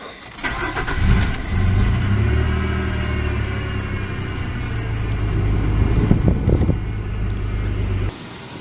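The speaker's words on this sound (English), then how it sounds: "So I'm gonna go start the car now." A Ford Explorer engine cranks and starts after fuel filter work, then idles with a loud, steady low rumble close to the microphone, with some wind buffeting, before cutting off near the end.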